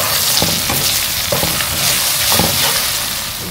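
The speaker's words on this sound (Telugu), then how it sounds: "దీంట్లో అల్లం వెల్లుల్లిపాయ పేస్ట్ వేసేసి కొంచెం ఫ్రై చేసుకోండి" Onions frying with ginger garlic paste in a pan, a steady loud sizzle broken by a few soft scrapes of stirring, with no voices.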